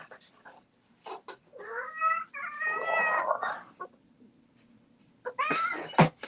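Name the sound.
cat meowing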